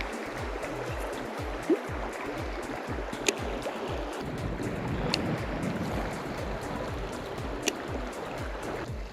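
A narrow river about twenty yards across flows steadily as a broad, continuous rushing wash, with a few faint clicks over it while trout fishing; no one speaks.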